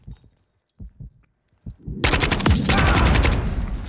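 Modern Warfare III gunfire bursts in close and loud after a few muffled thumps, a rapid sustained stream of automatic shots crackling continuously to the end.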